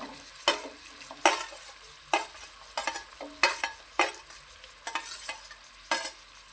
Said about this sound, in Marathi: हे असे छान फ्राय करून घेऊ